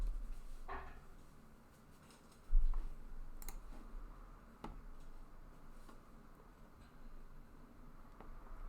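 Computer mouse clicks while running a SOLIDWORKS flow simulation, a few sparse, sharp, faint clicks spaced seconds apart over quiet room tone.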